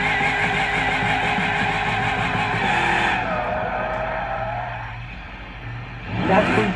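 Racing-game car engine running loud and steady with a high, tonal whine, dropping off near the end before a brief burst of tire skid or revving; no talking.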